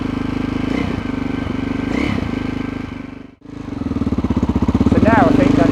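A KTM 660 SMC single-cylinder motorcycle idles close by after being kick started, its loud, rapid thumping pulse steady throughout apart from a brief dip midway, with a voice talking over it near the end.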